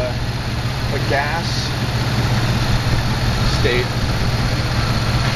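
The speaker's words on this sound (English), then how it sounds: "right now we're producing hydrogen that's been drawn into the engine via two vacuum hoses" An engine fed homemade hydrogen through two vacuum hoses runs with a steady, close, low drone while someone speaks briefly over it.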